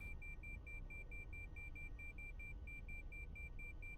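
An alarm in the X-Plane 11 flight simulator, a rapid repeating electronic beep pulsing evenly through the whole stretch over a low cockpit hum, with no speech.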